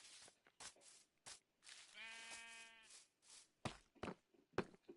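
A single wavering bleat from a sheep sounds between soft scattered clicks and taps, fairly faint and close.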